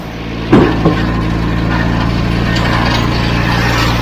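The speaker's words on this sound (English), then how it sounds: "Every time you hear that, that's that gate switching back and forth." Concrete pump gate valve switching with a sharp clunk followed by a smaller knock, heard close over the pump's steady, loud mechanical drone on a job site.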